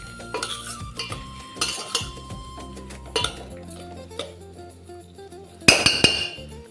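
Metal lid set onto a pot of soya chunk dum biryani, giving a few sharp clinks and clatters of metal cookware, close and distinct with quiet gaps between.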